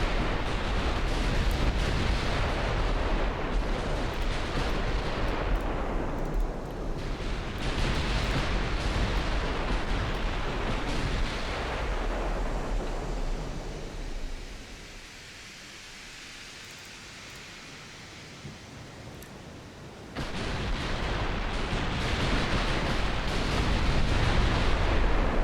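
Battleship main guns firing salvos in the World of Warships video game, a sustained loud, rumbling barrage of booms and roaring blasts that thins out briefly near the middle before the heavy, dense gunfire returns.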